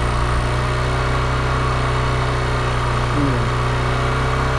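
Carbureted 2012 motorcycle engine held at a high idle of about 4000 RPM, a loud, steady, even drone throughout, with a brief spoken word near the start.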